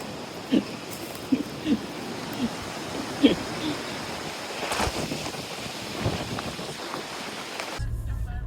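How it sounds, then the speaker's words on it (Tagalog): Steady, cold wind gusting and rushing outdoors in Nasushiobara, Japan, a broad continuous roar with a few sharp knocks, heard alone without talk. "Ang hangin."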